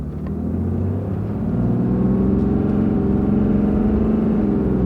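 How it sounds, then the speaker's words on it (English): A deep, steady engine rumble builds as a big American diesel work pickup truck accelerates smoothly, heard from inside the cab without clear gear shifts. "This isn't a race truck, it's a big diesel work truck."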